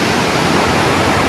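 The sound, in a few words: rushing water from tunnel near bridge in Naran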